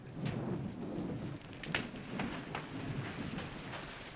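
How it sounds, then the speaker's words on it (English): Steady rain on a surface through a thunderstorm, with distant rumbling thunder rolling underneath and a sharp crack near the middle, at moderate loudness with no voices. "There's a storm coming to them, sure enough."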